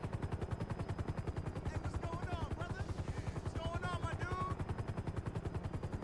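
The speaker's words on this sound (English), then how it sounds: "While Liam wasn't looking, I made off with a chopper." Helicopter in the video game GTA Online, its rotor beating in a fast, regular, close thump throughout, with bursts of game audio and voice-like sounds layered over it.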